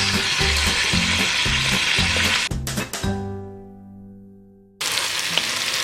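Onions and carrots sizzle and crackle in a hot pan for beef burgundy, with stirring scrapes at the start; the frying cuts off abruptly midway, leaving a fading tone before loud sizzling returns near the end.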